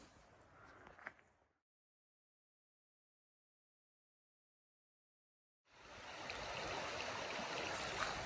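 A creek flowing through a horseshoe bend near a shelter on the Appalachian Trail, a steady close rush of water that cuts out in a silent gap and then returns louder.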